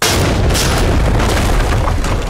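A flashbang grenade detonates during a door breach in the tactical shooter Ready or Not, a loud, sustained booming blast with broadband noise filling the entire moment, no voices over it.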